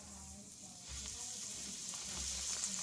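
Cauliflower pieces dropped into hot oil on a stovetop, giving a steady soft sizzle that swells after the first second and holds, with faint low bubbling beneath.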